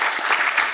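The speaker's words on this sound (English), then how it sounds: "So, applause to everyone." Audience applause at a panel talk on Kurdish movements in the Middle East, a short dense burst of many hands clapping, steady and moderately loud with no voices.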